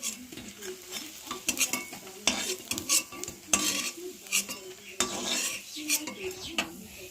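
Egg and red lentil fritters cooking in a pan, with irregular clinks and scrapes of a utensil against the cookware and a faint sizzle underneath, close by.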